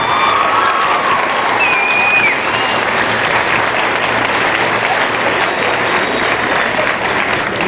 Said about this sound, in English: let's give ourselves a round of applause for making it this far.